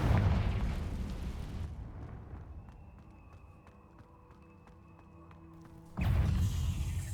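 In Hogwarts Legacy, a Confringo fire spell bursts into a loud, booming explosion that fades into a quieter stretch of faint ringing tones before another heavy blast roars in.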